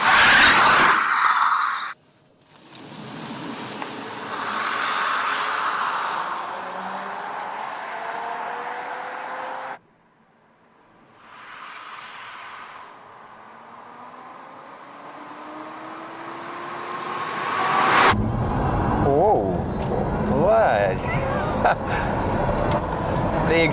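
A Mercedes SLS AMG E-Cell electric car pulls away under hard acceleration, its motor giving a rising whine amid road and wind noise, with abrupt cuts and a rougher rushing stretch near the end; no one speaks.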